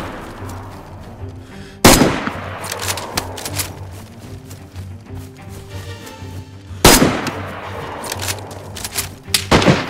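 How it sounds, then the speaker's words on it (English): Gunfire in the video game DayZ: two sharp, loud shots stand out, with denser bursts of rapid smaller reports between them over a steady game background. "I'm getting shot from there now."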